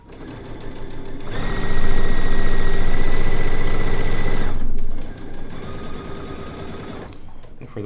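A sewing machine pieces a quilt with a straight stitch needle plate and a quarter-inch straight stitch piecing foot. It runs in a loud, steady whirring burst of about three seconds, then stops, leaving quieter background hum.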